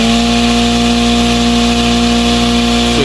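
An electric farming shredder runs just after being switched on, a loud, steady motor drone with a strong constant hum that does not vary.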